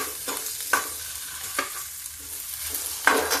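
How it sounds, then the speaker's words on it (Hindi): Potatoes fry in a pan with a steady close sizzle, and a spatula stirs them with three brief scrapes spread over a few seconds. "ये आलू डाला, इस आलू को थोड़ा सा हम भून लेते हैं, जरा सा करारी सी।"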